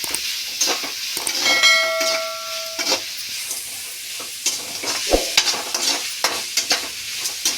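A spoon stirs carrot rice with salt in a pan, scraping and clinking softly in irregular strokes, with a faint sizzle beneath and a short ringing tone early on.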